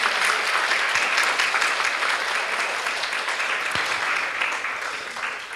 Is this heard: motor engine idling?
no